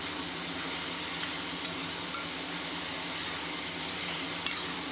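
Onions and tomatoes sautéing in a pan for kaadai (quail) gravy, a steady close sizzle that holds throughout, with a few faint clinks of utensils against the pan.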